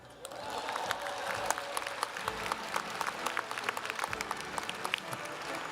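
A commencement audience at WSU Spokane's 2024 graduation breaks into applause, a swelling wash of clapping with sharp individual claps standing out, sustained throughout.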